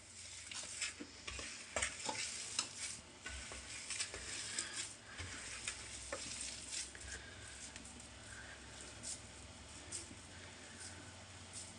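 Gram flour is stirred by hand into a cauliflower kofta mixture, giving a soft, steady sticky patter and scraping in a bowl, faint and close with no talking.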